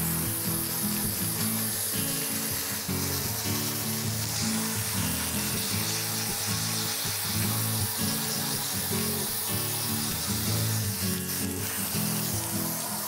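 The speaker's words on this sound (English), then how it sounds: "we'll go ahead and start rinsing now" A rinsing spray of water washes zebra mussels off a boat, a continuous loud hissing gush that stays steady and close throughout, with no voices.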